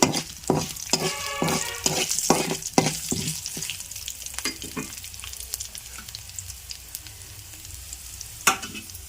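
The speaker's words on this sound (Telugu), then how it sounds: "ఇదిగోండి ఇప్పుడు ఎండుమిర్చి వేస్తున్నాను." Dried red chillies frying in a pan, a close sizzle with a spatula scraping and stirring in quick repeated strokes that slow and fade toward the end.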